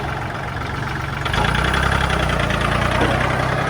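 A used Yanmar 39 hp farm tractor's diesel engine runs loud and close with a steady idling rumble, then rises to a heavier, stronger drone after about a second as it gets underway. No voices are heard.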